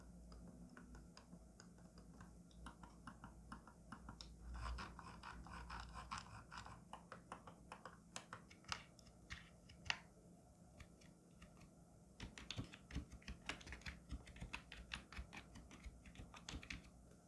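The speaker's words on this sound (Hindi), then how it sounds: "अब ये कीबोर्ड माउस को यूज करोगे तो कैसा नॉइस करेगा वो मैं आपको सुना देता हूँ" Rapid typing on a Zebronics Zeb Companion 500 wireless keyboard with scattered sharper mouse clicks, steady and close, pausing briefly midway before resuming; no voices.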